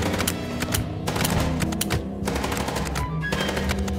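Rapid video game gunfire from Chicken Police, dense bursts of automatic shots and thumps firing almost continuously, loud and close with no talk.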